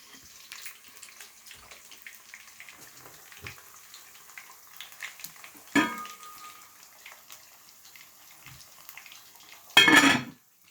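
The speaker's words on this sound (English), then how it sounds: "Cold oil can't fry fish. The fish will stick up if the oil not hot." Snapper fish frying in hot oil gives a faint, continuous sizzle with scattered crackles, broken by a brief louder burst midway and a stronger splattering hiss near the end.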